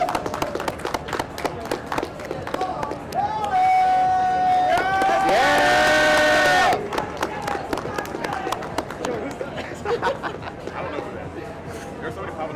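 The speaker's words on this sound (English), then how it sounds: "give them a huge round of applause for making top 3 in our Strive brackets" A crowd at a Guilty Gear Strive tournament claps and cheers for the top three players, a steady wash of applause with shouts mixed over a loud, tonal game soundtrack and people talking.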